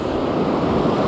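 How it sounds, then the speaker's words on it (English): Small, flat ocean surf at a San Diego beach, a brief steady wash of breaking water with a soft windy hiss, close and continuous. "The surf is pretty flat"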